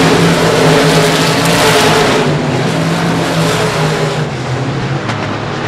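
Race cars in the South Texas Shootout roar down the front straightaway, a loud continuous engine drone with steady pitch that fills the whole stretch and eases slightly toward the end.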